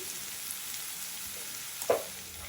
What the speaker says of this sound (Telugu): ఇప్పుడు వీటిని వేయించుకోవాలి.